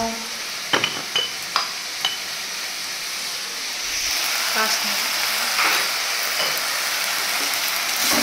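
Afghani chicken frying with turmeric and chilli, a steady loud sizzle like rain that swells midway, with a few spoon clinks against the pan early on, close up.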